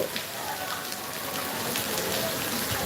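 Heavy rain pours steadily in a village setting, a constant broad hiss of water falling on surfaces with no breaks, fairly soft in level throughout.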